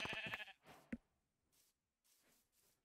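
Sheep bleating in the Minecraft video game: a louder burst of game sound comes first, then several short, faint bleats follow at intervals.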